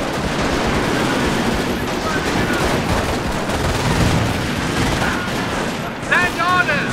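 Continuous battle gunfire in Company of Heroes, a Battle of the Bulge mod: dense, loud rifle and machine-gun fire rolling throughout, with brief shouted voices and radio-like chatter near the end.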